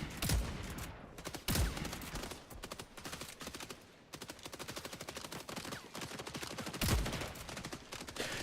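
Rapid video-game gunfire from a tank shooting off its ammo packs, dense bursts of shots running almost continuously with a few heavier booming hits, loud and close with no talking.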